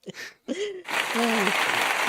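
After brief talk, a live audience breaks into dense, sustained applause that fills the rest of the moment, with a voice speaking over the clapping.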